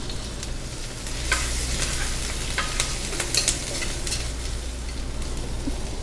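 Onions hitting three tablespoons of hot cooking oil in a wok crackle and sizzle loudly and continuously, with scattered spatter pops and stirring scrapes up close.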